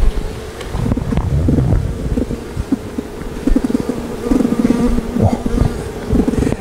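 Honey bees buzz steadily and close in an apiary, a dense continuous hum with wind noise over the microphone and a brief exclamation from a person.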